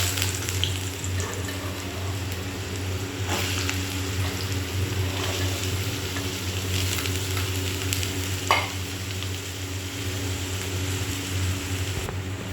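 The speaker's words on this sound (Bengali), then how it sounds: "দিয়ে এবার আলুটাকে ভেজে নেব।" Small diced potatoes fry in plenty of oil with salt and turmeric, making a continuous, moderately quiet sizzle broken by occasional scrapes and clinks of stirring.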